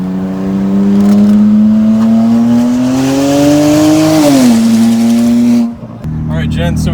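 A straight-piped BMW 335i with an N54 engine, exhausted from the turbo back, accelerating hard with a loud, rising droning tone that dips on a gear change. Voices are heard in the car around it.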